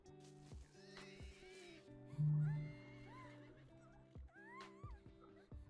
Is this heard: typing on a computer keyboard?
no